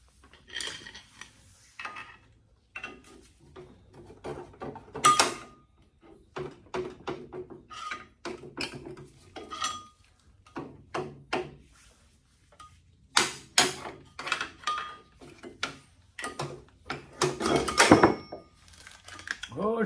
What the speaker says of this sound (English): let's get a couple pry bars and start prying that off.